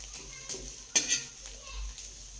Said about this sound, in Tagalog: Kaya nga po inihaw ko lang po sa kawali. Ito hindi ko po nilagyan ng mantika.